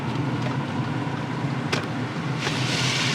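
A Subaru Forester mild hybrid moves along on electric power, giving a steady low road and tyre hum with light wind noise and no obvious engine roar.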